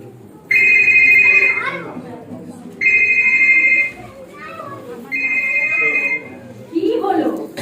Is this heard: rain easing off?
no